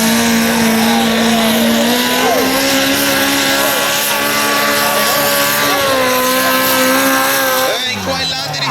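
A pulling tractor's engine roars loud and close at an outdoor tractor pulling contest, holding a high sustained whine that wavers slightly in pitch before dropping off at the end, with a voice talking faintly underneath.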